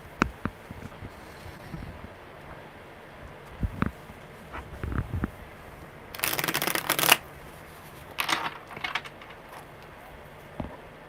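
Tarot cards are shuffled by hand in short riffling bursts, with a longer flurry near the end and quiet gaps between.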